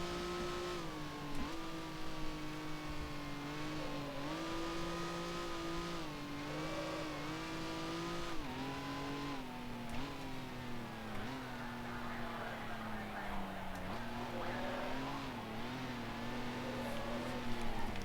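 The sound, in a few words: 1955 F1 race car engines, Grand Prix Legends video game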